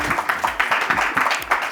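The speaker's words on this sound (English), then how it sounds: "Can I have a round of applause for our panelists?" Audience clapping for conference panelists in a short, fairly close patter of individual hand claps, uneven and not very full, lasting under two seconds.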